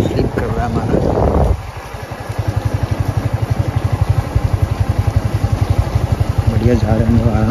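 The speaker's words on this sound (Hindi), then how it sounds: "ये सारा लाल माटी है तो थोड़ा बाइक स्लिप कर रहा है हमारा।" A motorbike engine putters low and steady in a rapid, even chug as the bike creeps slowly downhill on slippery red soil, close and loud, with a voice talking over the start and near the end.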